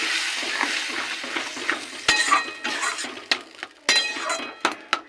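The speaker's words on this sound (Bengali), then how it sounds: "এবার ডাল ঢেলে দেবো, সেদ্ধ ডাল। মিশিয়ে নেব।" Boiled lentils for dal are tipped into a hot pan with softened tomato and stirred, giving a soft sizzle under repeated scraping and clinking spoon strokes against the metal, close and steady, with no one speaking.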